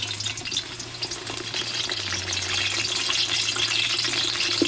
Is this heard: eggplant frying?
yes